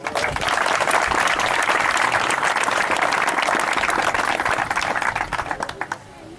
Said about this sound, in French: J'aurais souhaité qu'on applaudisse très fort pour lui.